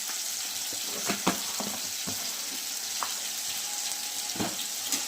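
Spices with a little salt fry in hot oil for fish kalia, a steady close sizzle broken by intermittent clicks and scrapes of stirring.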